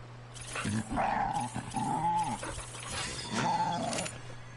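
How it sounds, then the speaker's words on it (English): A guard dog in the Ark survival game growls in low, rough rumbling bursts across several seconds, fairly close and moderately loud over a steady background hum. "that's the guard dog"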